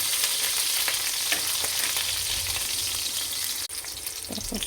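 Onions fry in a pan and get stirred until browned, giving a dense, steady sizzle that fills the space, with faint scraping turns underneath and a brief dip near the end.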